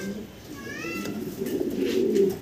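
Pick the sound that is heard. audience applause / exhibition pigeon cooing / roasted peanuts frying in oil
exhibition pigeon cooing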